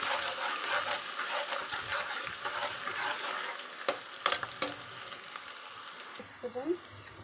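Chopped onions frying and being stirred in a pan make a steady sizzle with scraping strokes and a few sharper clanks toward the end, heard close with no talking.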